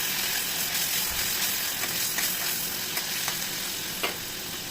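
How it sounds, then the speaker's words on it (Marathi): Tomatoes with turmeric and salt fry in oil with a continuous close sizzle, while a spoon scrapes and stirs through the pan in irregular clicks and knocks, with no talking. "मी तेलामध्ये टोमॅटो टाकलेला आहे अर्धा चमच हळद अर्धा चमच मीठ टाकून व्यवस्थित मिक्स करून घेणार आहे"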